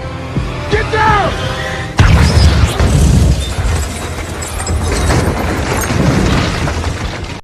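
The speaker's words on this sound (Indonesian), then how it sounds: "mengirim bom ke rumah Toretto yang membuat luluh lantak" A bomb blast tears through Toretto's house in an action movie, a sudden heavy boom followed by seconds of crashing, rumbling debris, after a brief stretch of tense dialogue and a shouted warning.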